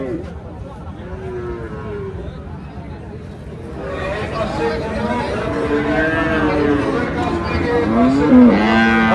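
Cattle at an Eid cattle market for Friesian cows, with long, low moos that grow louder and closer over steady crowd babble and nearby voices.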